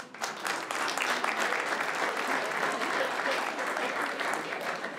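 Audience applause at a stand-up comedy special, a steady, dense wash of clapping from a large crowd that holds at an even level throughout and tapers slightly at the end.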